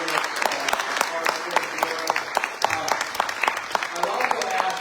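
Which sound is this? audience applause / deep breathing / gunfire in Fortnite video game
audience applause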